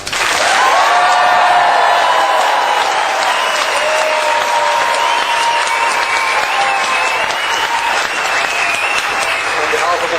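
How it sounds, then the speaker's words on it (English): A scout audience gives a big round of applause, dense clapping filling the whole stretch at steady loudness, with cheering and voices mixed into the crowd noise. "I'm sure the audience here would like to give you a huge round of applause"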